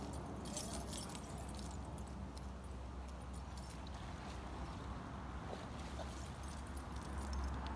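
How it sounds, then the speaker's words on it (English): Car keys jangle in a pocket, giving faint, scattered metallic tinkles over a steady low background noise. "Yes, I have my keys in my pocket, my car keys."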